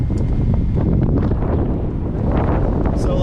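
Strong wind at sea, roughly 20 to 25 knots over 6 to 8 foot seas, roars steadily and loudly across the microphone on an expedition dive boat in the Turks and Caicos, with constant low buffeting and no talk.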